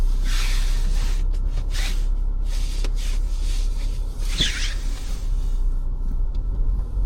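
Steady low engine rumble of a car on the move, constant throughout with occasional faint knocks and rustles inside the cabin.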